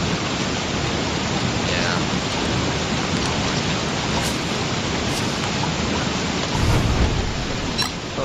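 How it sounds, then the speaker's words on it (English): Steady heavy rain in the video game Don't Starve pours as a dense, constant hiss, with a brief word spoken partway through and a low rumble swelling near the end. "Oh god, it's raining really hard now."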